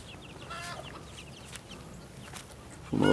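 Chickens clucking in an outdoor chicken yard near breeding and brood pens, scattered soft calls at a moderate distance over quiet background, with a louder burst close by at the very end.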